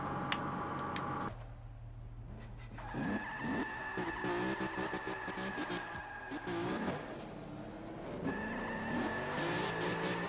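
Tires squeal and skid over and over as a Nissan R35 drifts in Forza Motorsport 5, with the engine droning underneath. Long screeching slides come in steady waves, loud and close, and no one speaks.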